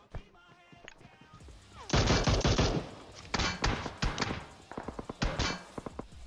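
Gunfire in a battle royale video game, with rapid automatic bursts and single loud shots cracking close by, breaking off and starting again over a few seconds.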